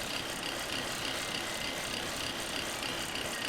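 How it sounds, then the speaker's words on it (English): A parting tool cuts off a swamp alder turning on a wood lathe, giving a steady, continuous grinding rasp with dense high hiss throughout, close and fairly quiet. "I'm using a tool to cut it off here. I'm using my parting tool here."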